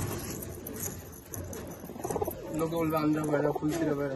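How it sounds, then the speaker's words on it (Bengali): A pigeon coos in soft repeated throaty rolls near the end, following muffled handling and background chatter; someone talks over the bird sounds. "দারুণ পায়রা, দারুণ পায়রা।"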